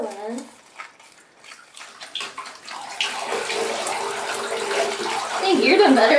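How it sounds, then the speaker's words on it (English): Water poured over a porcupine during its first bath, splashing and gushing that builds into a loud steady pour after quieter talk and small splashes at the start. "when I dump the water on, it's going to clean it"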